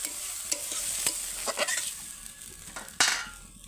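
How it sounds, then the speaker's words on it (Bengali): Masala sizzles in oil in a pan for pabda fish curry: a close, steady frying hiss broken by scraping stirs and occasional clinks of a spoon against the pan, with no voices. "দেখো মশলা দিয়ে আমার তেল ছেড়ে দিয়েছে, এবার আমি জল দিয়ে দেবো।"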